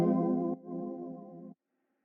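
Sampled chords played at half speed through an RC20 VHS preset with a high-pass filter, giving a warm, worn, slightly distorted vintage tone: one sustained chord, then a second quieter one that cuts off abruptly, no voices.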